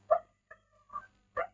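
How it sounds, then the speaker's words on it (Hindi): A dog barks outside during an indoor maths lesson: four short, separate barks spaced over about a second and a half, faint and somewhat distant, with no talk over them. "बाहर कुत्ता भौंक रहा है, उस पर ध्यान मत दीजिएगा"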